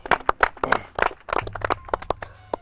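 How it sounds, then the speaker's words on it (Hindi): Several people clapping hard in irregular bursts at a reality show finale, a dense patter of sharp hand claps rising and falling in quick clusters with brief gaps. "जोरदार तालियां"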